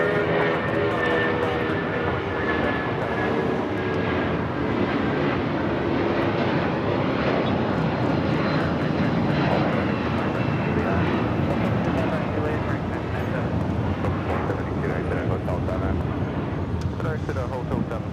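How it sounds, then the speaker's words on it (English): A United Airlines Boeing 737-900ER on its takeoff roll at LAX gives a sustained, steady engine roar, heard at moderate distance with a commentator talking over it. "Next takeoff is a flight heading to Houston. United Airlines flight 2377, a 737-900ER."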